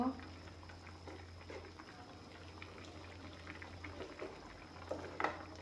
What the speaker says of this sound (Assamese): এতিয়া আঞ্জাখন ভালকৈ উতল আহিব দিছোঁ